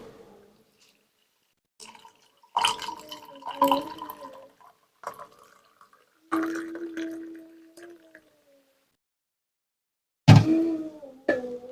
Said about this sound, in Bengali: গরম পানিটা ঢালছি।